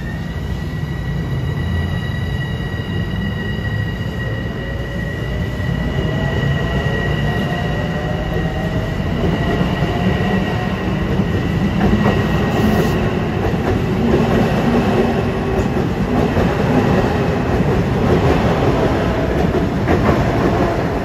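An LIRR M7 electric train rolls past at Elmont, a loud, steady roar of wheels and rails held for the whole stretch, with thin high wheel squeal riding above the rumble.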